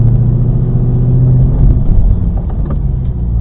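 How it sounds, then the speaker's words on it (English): Car engine accelerating slowly, recorded from inside the cabin by an Onn dual dash cam: a loud, steady low rumble with a gradual rise, continuous and distorted throughout. "I'm accelerating slowly right now."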